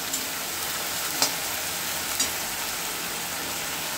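Ground masala frying on a low flame in a pan for rohu fish kaliya, a steady hissing sizzle with a couple of faint clicks, close and alone.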